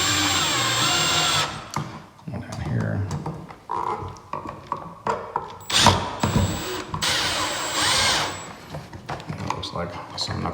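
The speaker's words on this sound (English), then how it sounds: "I usually use a drill at this point because I'm lazy." A cordless power drill drives screws into an electrical outlet box in a wall, with several short whirring bursts broken by pauses and tool handling noises, and someone talking in between.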